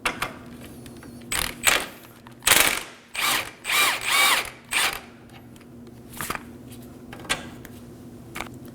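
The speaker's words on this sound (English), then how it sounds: "Using a 21mm socket," A ratchet with a 21mm socket loosens the bottom bolt of a rear air shock on a 2017-2024 Nissan Armada, giving close, loud bursts of rapid clicking with short pauses between them.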